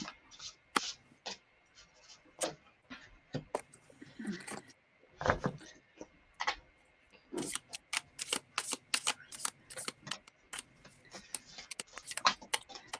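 Tarot cards are shuffled by hand in irregular bursts of crisp riffling and snapping taps, close and quiet, with a voice talking now and then in between.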